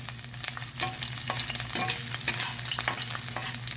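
Ginger frying in hot oil crackles with a dense, busy sizzle, with clinks of a utensil stirring over a low steady hum.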